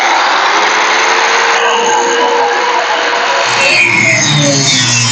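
A power tool cuts through the inner fender sheet metal of a 1971 Chevelle, giving a loud, steady, high-pitched grinding whine that runs the whole time and shifts slightly in tone partway through.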